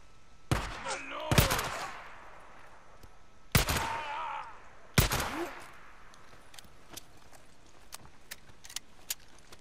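Several sharp, loud gunshots in the video game Days Gone ring out in a burst early on, then fade into quieter scattered clicks and taps against a low background.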